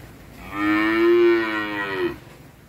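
A single long, loud moo from a nearby cow at a cattle breeding farm in Vinh Long, starting strong and fading after about a second and a half, with no talk over it.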